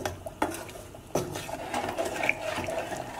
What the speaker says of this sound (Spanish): Vamos a mezclarlo todo